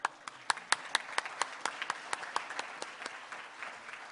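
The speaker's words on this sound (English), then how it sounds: "Let's give all of them a round of applause" Scattered, distinct hand claps from a modest Rotary Club meeting audience, moderately distant and fairly quiet, with individual claps clearly separated over a few seconds.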